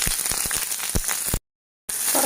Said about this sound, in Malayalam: ഇതിലേക്ക് നമ്മൾ അരിഞ്ഞു വെച്ചിരിക്കുന്ന ഉള്ളി, ഇഞ്ചി, പച്ചമുളക് ഇത്രയിട്ട് നന്നായിട്ടൊന്ന് വഴറ്റുക